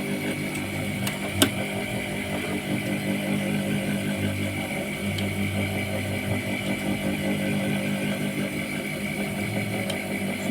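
A sewing machine stitches a zipper into jeans with a steady, fast mechanical whirr and rapid needle chatter, running continuously at moderate volume with a few faint clicks.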